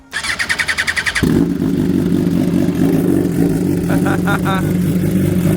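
A rapid mechanical clatter from a motorcycle starter gives way to the engine catching and settling into a loud, steady, close idle, with a short blip of revs near the end.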